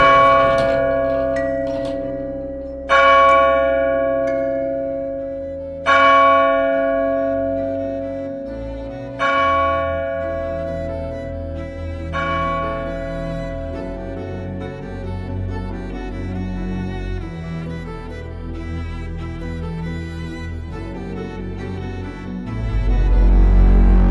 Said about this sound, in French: Faisons sonner cette cloche.